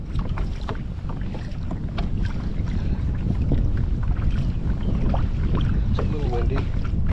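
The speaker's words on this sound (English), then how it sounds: "It's a little windy." Strong wind roars steadily across the microphone in a low, constant rumble while trout fishing in early spring, with faint splashing and occasional light knocks on top.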